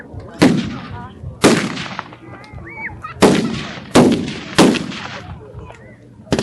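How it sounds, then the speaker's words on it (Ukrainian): Gunfire rings out during a UPA battle reenactment in Rivne: five loud, sharp shots at irregular intervals, each with a long ringing decay, and faint background sounds between them. "Вони прийдуть обстрілювати ворога."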